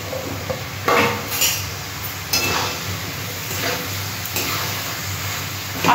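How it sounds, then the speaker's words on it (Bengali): Hopa and thin-cut potatoes being sautéed together with spices in a pan, with clattering of a utensil against the pan and occasional stirring scrapes over a low steady background, no talking. "হোপা আর আলু আমি একসাথে কষিয়ে নেব মশলার সাথে।"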